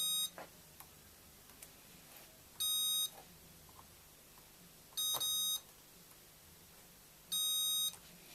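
A multimeter on continuity test sounds while soldered joints are probed: three short, sharp electronic beeps spaced a couple of seconds apart, with faint clicks of the probes between them in a quiet room.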